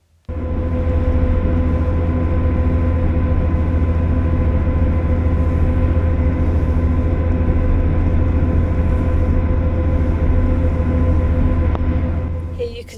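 A train rumbles across the Forth Bridge toward Dalmeny, heard as a loud, continuous low drone with a steady hum that holds evenly for more than ten seconds, then cuts off abruptly.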